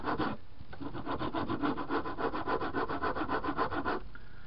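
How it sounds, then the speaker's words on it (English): Steel rasp carving down a styrene plastic part on a model railroad gravel loader, giving steady rhythmic scraping strokes, about fifteen evenly paced passes, close and fairly loud, alone without talk. "placed my steel rule on it, and then just carve it down, first using a rasp to get most of it off."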